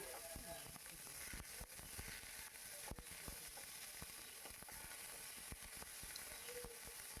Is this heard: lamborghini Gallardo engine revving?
no